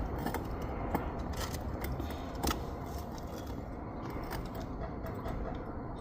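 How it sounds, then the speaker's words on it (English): A small air pump running inside a homemade charcoal smoke machine used as a cheap vacuum leak detector, giving a steady close mechanical whir with faint rattling clicks throughout. "Turn the pump on."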